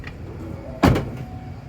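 The Falcon-wing doors of a 2018 Tesla Model X P100D close with a single solid thud at close range, preceded by a faint motor whir and followed by quiet background hum.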